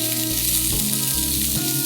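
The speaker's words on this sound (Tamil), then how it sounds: "இதை போட்டு இப்படி கொஞ்ச நேரம் ஒரு 1 மினிட் அப்படியே ஃப்ரை பண்ணணும்" Strips of plantain peel frying in an oil-filled pan for a Kerala-style thoran, a loud continuous sizzle with brief stirring shifts.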